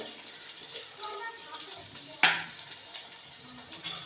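A medium onion drops into a cup of hot oil with a bright, steady hissing sizzle that flares briefly as it lands and keeps frying close by, with no talking.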